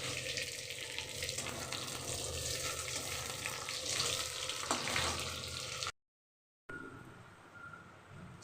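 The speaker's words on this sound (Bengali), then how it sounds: "এবার এগুলোকে অ্যারারুট দিয়ে মেখে বড়ার মতন করে ভাজবো" Pieces of marinated fish coated in arrowroot fry like fritters in hot oil, a steady close sizzle and crackle that runs for several seconds, breaks off abruptly, then returns more quietly.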